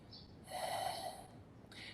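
A single deep breath taken during a hatha yoga stretch, a long, soft airy inhale or exhale lasting about a second, heard close and alone with a brief second breath starting near the end.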